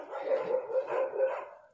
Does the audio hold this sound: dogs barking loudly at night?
yes